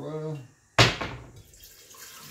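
A kitchen tap gushes on while passion fruit curd is being made, a sudden loud splash of running water that quickly settles into a softer flow, right after a voice speaks.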